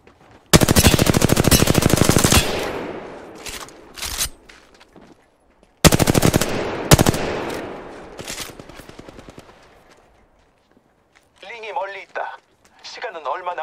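Bursts of rapid automatic gunfire in the battle royale shooter Apex Legends, two long loud volleys with shorter shots between, then a voice speaks near the end.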